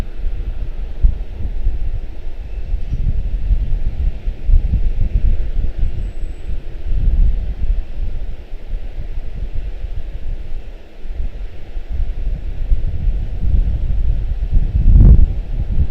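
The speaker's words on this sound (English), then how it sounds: "there's the gusts" Wind gusts buffet an outdoor microphone near Charlotte-Douglas International Airport, a continuous low rumbling roar with swelling surges and a strong thump near the end, no talking.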